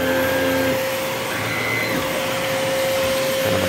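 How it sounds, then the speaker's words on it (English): A vacuum cleaner runs steadily inside an RV trailer, its loud, even whine continuing alone with slight shifts in pitch as the nozzle moves. "when you're vacuuming for somebody"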